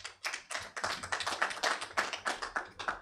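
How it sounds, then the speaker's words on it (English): Participants at a women's arbitration symposium in Uganda clap for themselves, a dense run of sharp, close handclaps at steady moderate volume that carries on throughout. "Please clap for yourselves"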